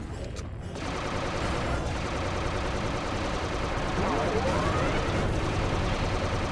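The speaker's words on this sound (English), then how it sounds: "it's got a little bit of a spread gun here. Gonna use up a lot of energy" Rapid spread-gun fire in the Earth Defense Force 2 video game, a dense continuous barrage of overlapping shots with game effects, loud and steady for several seconds after a brief opening.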